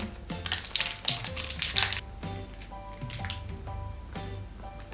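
A protein bar wrapper is torn and opened, giving crinkly, crackling plastic rustles in bursts over about five seconds, close to the mic with no talk.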